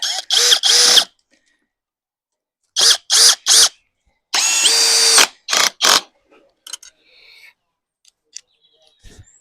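A Dong Cheng 20v brushless impact drill drives screws in several loud, close bursts, a pair of quick pulses, then a group of short runs and a longer hammering stretch, followed by faint handling clicks and rustles.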